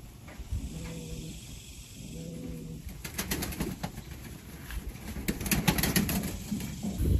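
A racing pigeon being handled coos softly twice, then flaps its wings in a flurry of close, rustling beats that continue to the end.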